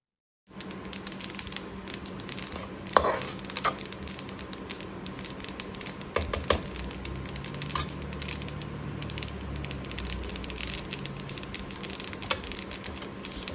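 Dense, rapid crackling and ticking continues throughout as sesame seeds pop while roasting in a hot pan, with a few louder pops over a steady sizzle.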